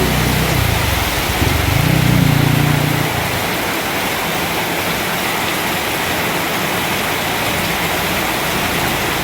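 Heavy tropical downpour drumming in a dense, continuous roar, with a low engine-like hum audible underneath during the first few seconds before the rain carries on alone.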